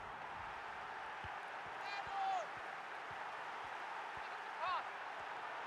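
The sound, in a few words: stadium crowd cheering in FIFA video game match simulation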